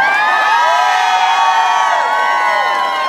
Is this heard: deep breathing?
no